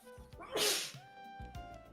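One sharp, close sneeze bursts out in a quiet room, followed by a few soft thumps and faint rustling.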